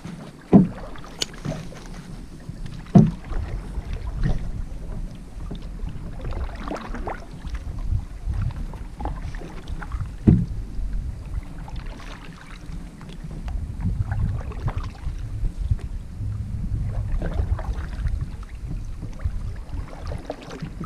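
A canoe paddled down the Petawawa River through a marsh, with soft rhythmic paddle strokes and water swishes up close under light wind noise.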